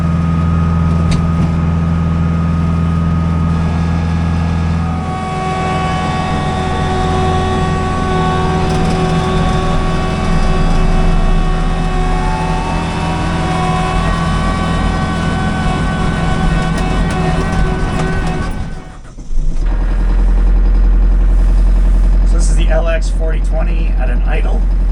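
Driving in high range, a John Deere LX4020 tractor with hydrostatic transmission gives off a steady engine drone with a rising whine, then briefly dips before heavy low rumble and clatter return; a voice talks over it.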